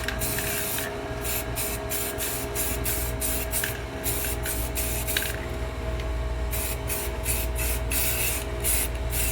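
Rattly hiss of an aerosol spray can coating car wheels, fired in a quick series of short bursts with brief gaps, steady and close, and no talking.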